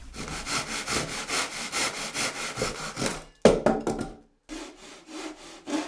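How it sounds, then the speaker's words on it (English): Pull saw cutting a faux wood beam, with rhythmic rasping strokes close up for about three seconds, then a knock, a short pause and another burst of sawing. "this saw cuts as I pull it toward me"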